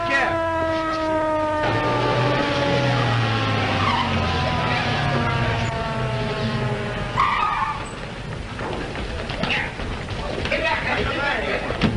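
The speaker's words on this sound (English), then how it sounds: "Ambulance coming." A wailing siren from an approaching ambulance in a 1932 film, its rising and falling harmonic tones loud for the first several seconds over dense street noise, then giving way to a rougher burst of traffic and engine sounds.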